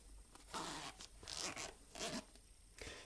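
A zipper on the pouch of Beats Solo 2 headphones is pulled open up close, giving several quick, raspy bursts separated by short pauses.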